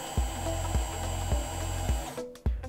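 An OrthoDrive powered surgical wire driver runs a wire in drilling mode, giving a steady close motor whine with a regular low pulse about every half second, then stopping abruptly near the end, followed by a few small clicks.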